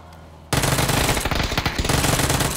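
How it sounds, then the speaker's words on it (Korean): Rapid bursts of automatic gunfire in PUBG (Battlegrounds) erupt suddenly after a brief quiet moment, loud and sustained with a few short pauses. "지금 총소리 들리는데."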